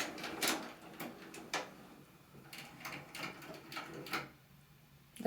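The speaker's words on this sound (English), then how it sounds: "The printer had to think about it again" A printer works with a series of short whirring and clacking mechanical bursts separated by quieter pauses, faint and irregular, with no talking.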